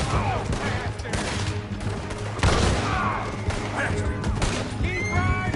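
Chaotic gunfire during a Red Dead Redemption 2 shootout while riding, rapid overlapping shots and crashes over hoofbeat-like rumble, with shouting voices mixed in throughout.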